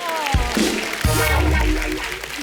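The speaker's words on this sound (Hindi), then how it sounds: "जोरदार ताली हो जाए।" Studio audience on a Hindi comedy talk show bursts into loud, sustained applause and cheering, mixed with bright music.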